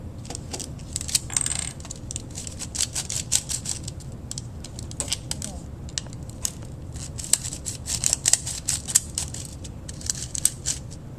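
Film being cut off at the end of a roll during reeling, heard as a dense run of small, close clicks, rustles and snips of handling film and tape, continuing steadily for about eleven seconds with no talking.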